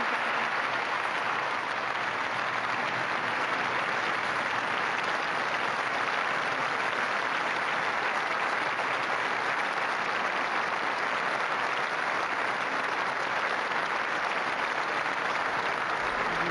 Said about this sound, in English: The audience rises, and Malala gives a long and warm applause for her acceptance speech.